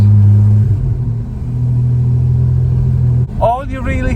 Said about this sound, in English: the engine just sucking in air